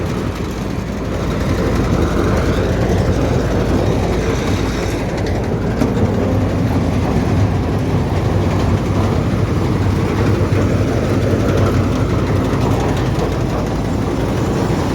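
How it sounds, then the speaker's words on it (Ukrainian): A Palesse 812CX combine harvester runs with its auger working, producing a loud, continuous heavy engine roar and rumbling, clattering machinery close by, with no break or talk. "Шнек працює."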